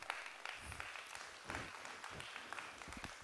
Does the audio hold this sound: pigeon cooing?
no